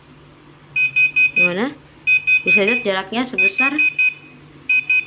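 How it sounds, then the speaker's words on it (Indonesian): An electronic buzzer on a distance-sensor project sounds in rapid repeated high beeps, pausing and resuming, while a person talks over it close by. "Di sini buzzer bunyi dan lampu berjalan bergantian"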